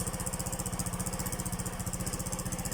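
A Rusi Royal motorcycle engine runs steadily at idle close by, its fast, even low-pitched pulsing continuing without a break and with no talking over it.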